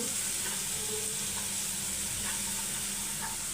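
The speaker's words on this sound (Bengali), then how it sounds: "মরিচের গুঁড়ো এক টেবিল চামচ আর দেব লবণ একটু চামচ দিয়ে এগুলোকে ভালো করে নাড়াচাড়া দিয়ে নিচ্ছি" Chili powder and salt being stirred in a frying pan while cooking dried fish with potatoes: a steady, dense sizzle and hiss with faint stirring scrapes, close and even throughout, no voices.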